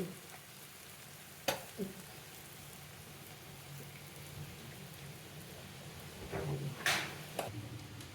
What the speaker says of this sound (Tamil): இப்போ எண்ணெய் வந்து நல்லா சூடாக கொதிச்சுட்டு பாருங்க